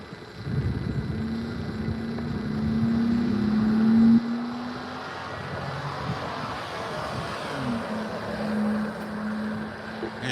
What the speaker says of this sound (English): You hear some of the older cars revving their engines trying to get up to speed on this street.